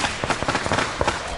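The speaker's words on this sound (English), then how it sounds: "over the noise of the firecrackers" Firecrackers set off in a village to welcome a returning warrior, a dense run of rapid crackling pops and bursts at steady loudness through the whole stretch.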